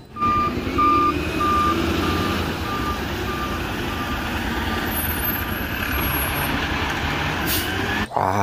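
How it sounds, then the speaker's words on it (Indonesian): A toy garbage truck sounds a steady run of reversing beeps over a continuous motor-like hum, close and fairly loud for about eight seconds, with no talking. "ada mobil truk sampah"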